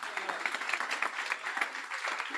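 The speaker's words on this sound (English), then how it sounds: "warm round of applause for Michelle." Audience applause at an on-campus graduation ceremony, a steady dense patter of many hands clapping at moderate distance, continuous throughout without a break.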